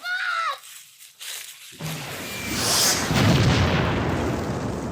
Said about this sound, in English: Look out, people! Run! It's a